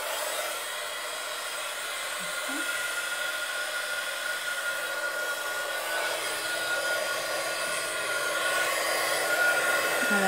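A heat tool blows hot air steadily onto embossing powder during card-making, giving a continuous close whirring hiss that grows slightly louder toward the end.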